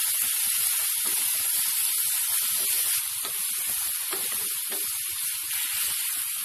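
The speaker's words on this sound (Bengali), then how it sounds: "এভাবে আমরা আস্তে আস্তে এটা ভাজি করে নিব, ঢাকনা দেব না।" Onion flower buds, potato, salt and turmeric frying slowly in an open pan, giving a continuous close hiss and sizzle with occasional soft pops and a few faint clinks.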